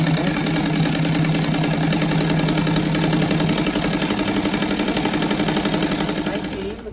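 A sewing machine runs continuously while stitching a patchwork rug, with the presser foot guided along the first seam. A steady, close, rapid motor hum and needle chatter sounds throughout, easing slightly at the very end.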